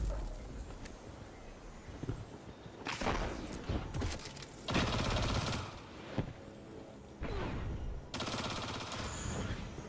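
Scout rifle hip fire in a Destiny 2 Crucible match, with sharp bursts of gunshots cracking out in clusters across the stretch, loud and close, mixed with other in-game combat sounds.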